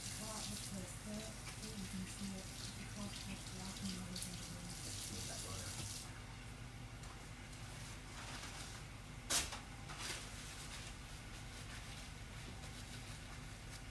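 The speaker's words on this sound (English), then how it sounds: "I'm going to wash my hands." Water runs steadily from a kitchen tap into a sink as hands are washed, a continuous hissing splash with a brief sharp clatter partway through.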